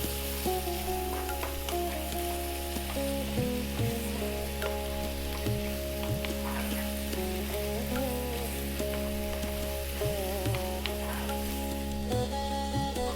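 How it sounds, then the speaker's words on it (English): Tomatoes and onions cook down in a pan for lamb bhuna, giving a steady, fairly quiet sizzle with occasional stirring clicks and a constant hum beneath, with no talk. "you can see that our tomatoes and onions are cooking down nicely"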